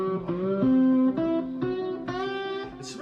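Clean slide guitar on the middle pickup with light compression, a soft run of gliding sustained notes with gentle slides between pitches, fairly close and alone.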